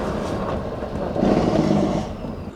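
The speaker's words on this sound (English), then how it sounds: "Oh, listen to the exhaust brake." A 2002 Prevost Country Coach XL2 40-foot bus engages its exhaust brake, a deep, rumbling drone that swells loudly midway, then eases off while the coach rolls on.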